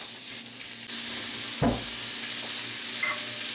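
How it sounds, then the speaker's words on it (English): Italian sausage frying in a pan gives a continuous loud sizzle and hiss, with a brief scrape or clatter as the meat is broken up, and no talking. "my Italian sausage. So we'll just pre-fry this and break it up."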